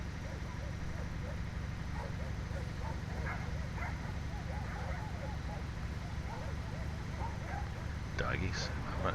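Dogs bark in short yips and bow-wows, faint and distant over a steady engine drone inside a heavy truck cab, with a louder yelp near the end.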